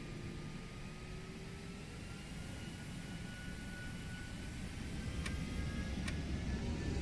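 Airbus A319 jet engines in a flight simulator spool up for takeoff, a steady broad roar that slowly builds in loudness, with a few faint ticks near the end and no talking.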